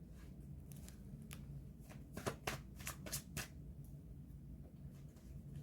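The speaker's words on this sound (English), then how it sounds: "I'm going to shuffle the cards and get some answers for us." Tarot cards are shuffled briskly up close, a quick run of papery riffles and flicks over a low background hum.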